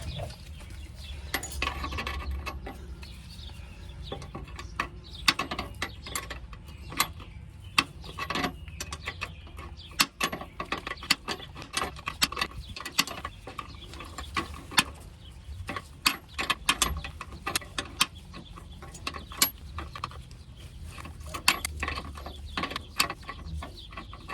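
Close mechanical ratcheting and tool clicks come as a brake line fitting is tightened on a 2009 Ford Escape during front brake line replacement. The clicks are sharp and irregular and run throughout with faint background noise.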